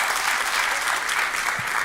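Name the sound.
comedy show audience applause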